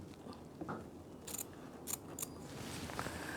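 Scissors snip through fabric while a dress back is draped in the style of a Madeleine Vionnet design, a few quick, quiet cuts sounding close over a soft background hiss.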